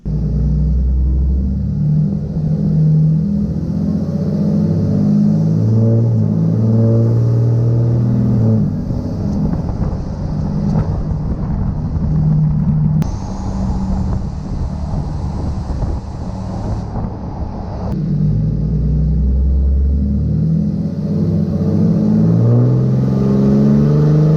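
Ram truck with a 6.7 common rail diesel and straight pipe exhaust: a loud, deep engine rumble runs throughout, swelling as it revs and easing back between pulls, with wind buffeting the microphone and no talk.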